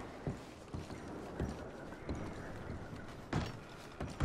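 Horses in Red Dead Redemption 2 clip-clop with irregular hoof thuds at moderate distance, a few louder, closer steps near the end over a soft outdoor ambience.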